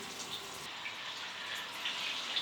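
Water streams steadily from a small 8 cm low-flow shower head fitted with a 4 litre per minute flow regulator, a continuous hiss with no talk.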